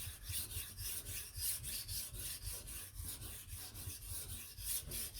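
A knife blade is sharpened with close, quiet, rhythmic rasping strokes, roughly two per second, steady and repeated with no talking.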